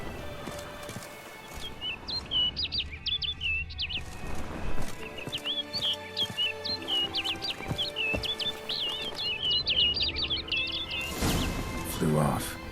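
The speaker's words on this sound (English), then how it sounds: "Looks like the bird's leading me somewhere." Birds chirp and tweet repeatedly in The Witcher 3: Blood and Wine, a steady run of bright calls over a low ambient game background, swelling toward the end.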